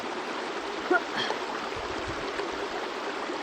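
The river at Sandy Ford on Dartmoor rushes steadily over rocks, a constant close, full wash of flowing water with a faint brief splash, heard on its own.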